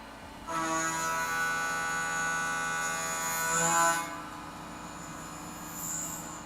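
Tormach CNC mill cutting soft jaws in a machine shop: a steady, tonal whine with layered harmonics kicks in abruptly and holds, rising briefly before settling into a quieter hum, with no voices.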